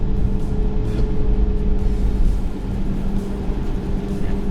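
A Chinese electric truck drives slowly inside a truck factory, giving a steady low drive hum with a faint whine and no talk over it.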